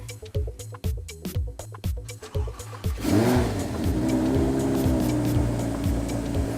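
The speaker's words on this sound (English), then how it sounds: "this V10 rumbles like you could only imagine. Just a blip of the throttle." A deep V10 engine of an Audi R8 Spyder rumbles and revs in short throttle blips, then settles into a loud, steady idle with a throaty exhaust note.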